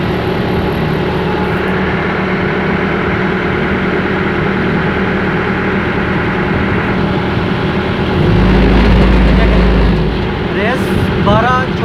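A Bobcat loader engine idling and then revving up, its steady drone rising into a louder, deeper roar partway through, with someone talking over it.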